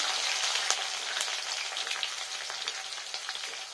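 Chopped ginger and green chili frying in hot oil, a dense close crackling sizzle with sharp popping spatters throughout, holding steady without any talk.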